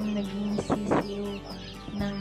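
A few hens clucking close by in short bursts, with a steady low hum in the background.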